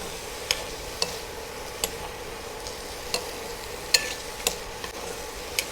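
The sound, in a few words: food frying mildly in a pot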